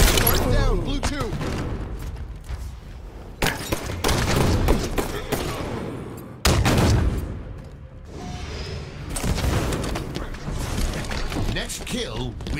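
Bursts of weapon fire in the shooter Halo 5 during a multiplayer match, several loud clusters of shots and impacts separated by brief gaps, mixed with game announcer callouts.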